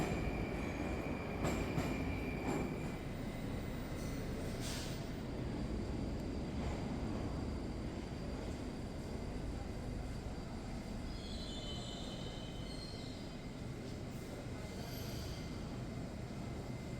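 A Moscow metro train runs underground with a loud, steady rumble of wheels on rail, faint squeals and tones rising over the roar throughout.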